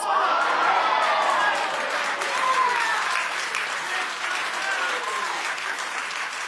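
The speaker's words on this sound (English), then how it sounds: "How could you clap at that?" Studio audience applause on a television talk show, a dense, steady wash of many hands clapping close and loud, sustained throughout with faint voices mixed in.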